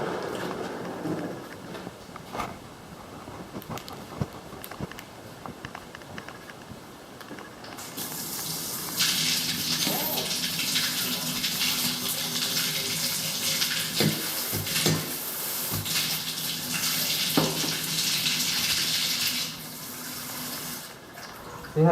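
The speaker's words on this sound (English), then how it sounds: "See how that drips?" A sink faucet in a vacant 1960s North Dallas house starts partway in, and water gushes steadily and close by, splashing into the basin after a quiet, faintly rustling opening.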